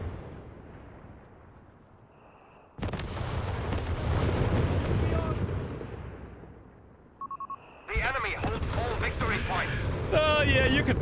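Video game artillery barrage with heavy booming blasts and rumbling impacts in waves, loud and close, alongside game voices and beeping interface tones.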